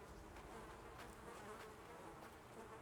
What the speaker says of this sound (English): Man, listen to those flies buzzing